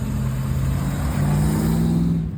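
Classic Triumph Stag cars drive past in a group cruise through Windsor, a loud close engine drone with a steady low hum and slight rise in pitch, no voices.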